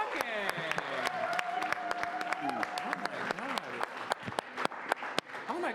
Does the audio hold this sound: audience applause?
yes